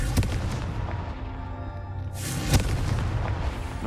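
In Hogwarts Legacy, the Confringo blasting spell erupts in heavy, rumbling booms with a sharp crack midway, loud and close throughout, and no speech over it.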